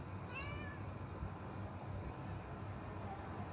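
A cat meows once, briefly and fairly far off, outdoors at night while travelling in Morocco, over a steady low background hum.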